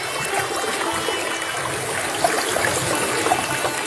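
River water flows and murmurs in a continuous, dense rush with soft trickling detail, fairly close and steady throughout, with no voices.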